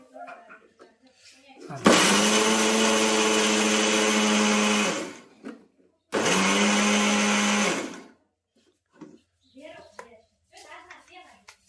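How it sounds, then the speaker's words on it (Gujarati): A kitchen mixer grinder whirs loudly in two strong bursts, powdering leftover lumps of a laddu mixture, with a short pause between runs and someone talking before and after. "એને ફરીથી પાછું મિક્સરમાં નાખવું પડે એટલે એકદમ ભૂકો થઈ જાય બધોય"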